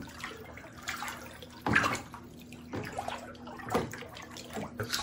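pH down acid is stirred into a large water reservoir for a drip system: soft splashing and swishing in irregular strokes, with a few louder sloshes over a quiet faint hum.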